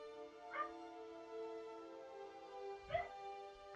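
An excited dog in the video game Skyrim gives two short yips about two seconds apart, set against a steady droning hum of background music.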